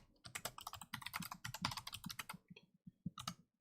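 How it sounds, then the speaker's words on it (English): Rapid, close typing on a computer keyboard, dense clattering keystrokes in quick bursts that stop briefly near the end before a final short flurry, with no voices. "Let's just type it out."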